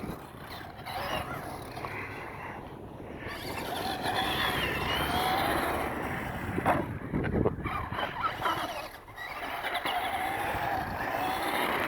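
A Traxxas Stampede 4x4 RC truck converted to two-wheel drive, driving outdoors: a rising and falling electric motor whine and tyre rush, near then farther, mixed with wind buffeting on the microphone.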